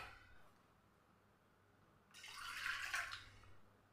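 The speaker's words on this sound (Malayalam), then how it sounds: "അല്പം കൂടെ നമ്മൾ വെള്ളം ഒഴിച്ചു കൊടുക്കും." Water is poured into a bowl of semolina batter, a quiet pause followed by a steady splashing pour lasting about a second and a half before trailing off.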